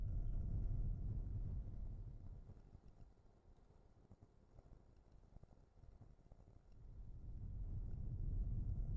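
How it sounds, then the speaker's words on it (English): Wind roars faintly around the mirrors and front of a Renault Symbioz cruising at 130 km/h, a low steady rumble heard from inside the cabin that swells, eases off, then builds again. "There's noise, wind, especially around the mirrors."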